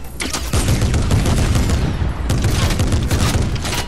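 Dense, sustained gunfire from a Fortnite match, loud and continuous with overlapping rapid shots and a brief break partway through before the volley resumes.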